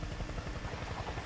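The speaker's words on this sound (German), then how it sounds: "Kommt schon der Heli." Helicopter arriving in the video game Crysis 3, a loud rapid rotor thump with a steady whirring drone, heard briefly and alone.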